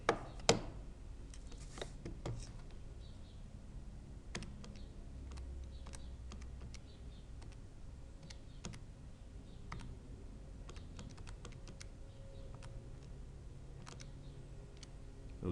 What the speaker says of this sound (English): I can type into my calculator